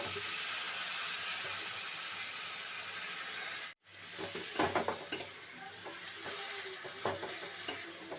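Banana flower and shrimp with chili powder frying and being stirred in a pan, a dense close sizzle and hiss that cuts out briefly, then returns with clattering spatula stirs, no voices.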